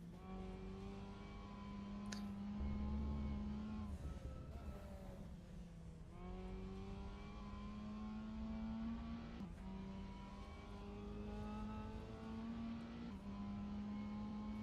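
Race car engine on an onboard lap of Silverstone National in a racing video game, revving steadily and loud, pitch climbing and dropping through upshifts and braking, with a brief whine and sharp downshift blips along the way.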